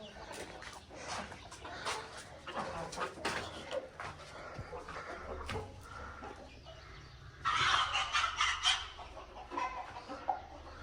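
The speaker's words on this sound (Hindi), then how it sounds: "ये देखिए हमारी मुर्गी खड़ुक बैठी हुई है" Hens clucking inside a backyard chicken coop, a steady mix of nearby clucks and squawks with a louder burst of agitated calls toward the end, over faint background noise.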